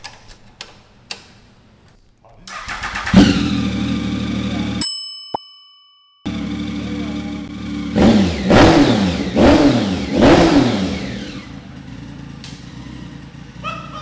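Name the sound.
Triumph Speed Triple R motorcycle revving with SC Project exhaust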